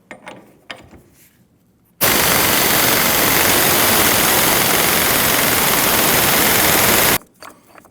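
Old front wheel bearing forced out of a Honda CR-V steering knuckle with a press, a loud steady grinding mechanical roar lasting about five seconds after quiet handling noises, then stopping abruptly.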